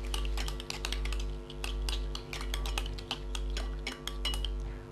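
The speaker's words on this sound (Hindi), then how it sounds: "उसके बाद इस पूरे मिक्सचर को हम मिक्स कर देंगे।" Spices for a fish marinade are stirred in a bowl, with a utensil clinking and scraping steadily against the side in quick repeated strokes, close and fairly quiet over a low steady hum, with no talking.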